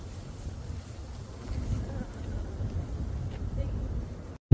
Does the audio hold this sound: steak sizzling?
no